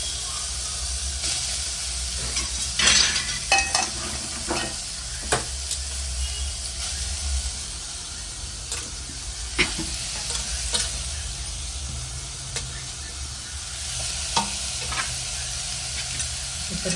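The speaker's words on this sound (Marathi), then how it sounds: "परतून घेऊया." Chopped cabbage sautés in a hot pan for momo filling, a steady sizzle and hiss broken by repeated scraping clatters of a spoon stirring, close and fairly loud.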